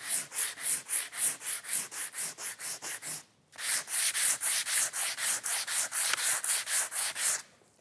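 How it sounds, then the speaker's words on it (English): Rhythmic hand sanding of a wooden Windsor chair part, the palm pushing abrasive in steady, evenly spaced strokes, about twenty close, loud rasps with one brief pause midway. "Notice that when I sand, I'm using the heel of my palm so I get good pressure."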